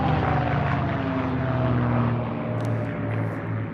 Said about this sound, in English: Third in the formation, the old Flying Machine Company's P-51D, named Ferocious Frankie